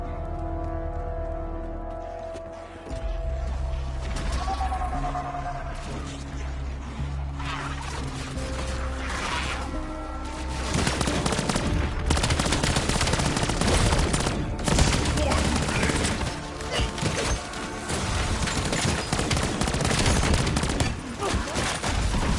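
Pistol fire from an upgraded, Pack-a-Punched legendary sidearm in the shooter game Black Ops 7: rapid, loud, overlapping gunshot bursts packed into the second half, layered over steady game music and sound effects.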